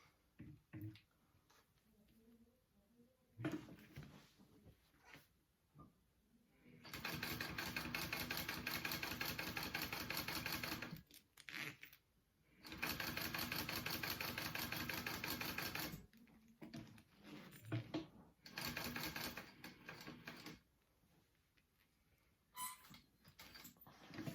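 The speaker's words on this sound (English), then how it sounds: "just sew along the edge of the vinyl to the other side and stop" A sewing machine stitching along the edge of vinyl runs in several bursts, two long steady whirring runs of several seconds and shorter stop-start spurts between quiet pauses, close and mechanical with no talk.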